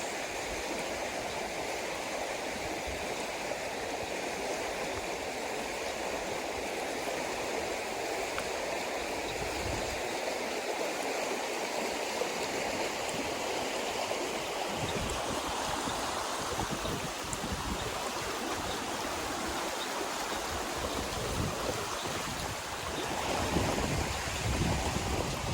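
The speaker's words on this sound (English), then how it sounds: "That water is definitely flowing." Stream water flowing near a cabin at Barnwell State Park, a steady broadband rush that stays constant and fairly soft throughout, with no talking.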